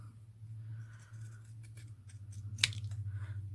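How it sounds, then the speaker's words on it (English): Pinking shears snip through craft felt in a quick run of crisp, close cuts with one sharper snap near the end, alone with no voices. "I've got the pinking shears."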